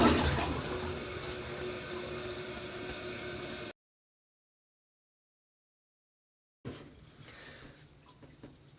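A newly installed toilet flushes with a loud rushing of water that cuts off abruptly, followed by a few seconds of silence and then quieter refilling water.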